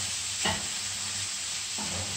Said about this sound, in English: 1 grated carrot. Give this a good saute.